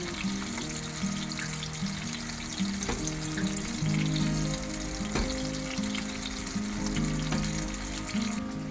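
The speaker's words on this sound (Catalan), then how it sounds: "I també els ruixem amb la mantega calenta." Sole fillets frying in a pan while hot butter is spooned over them, a close, continuous sizzle with periodic clinks and scrapes of the spoon against the pan, no talking.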